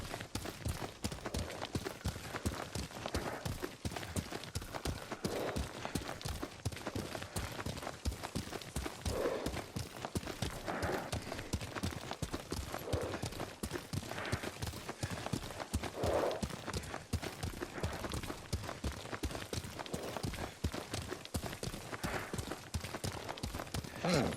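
Hooves of a horse galloping under a rider in the samurai game Ghost of Tsushima, a steady rapid clip-clop running the whole time, close and fairly loud, with occasional soft voices in the background.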